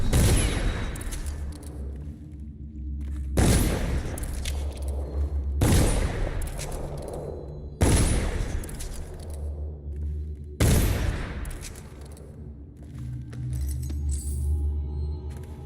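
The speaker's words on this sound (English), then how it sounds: "Since everyone else is dead, let's just shoot the rats." Gunfire in a video game aimed at rats: five heavy, booming shots spaced a few seconds apart, each with a long decaying tail, with clattering and jingling between blasts.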